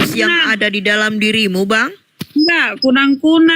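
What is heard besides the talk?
No distinct noise like a dog, phone or traffic.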